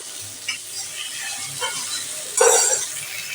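Dried red chillies, a bay leaf and five-spice hit hot oil in a pan, giving soft crackles and brief stirring, then a louder burst of sizzling near the end, close up and without talk.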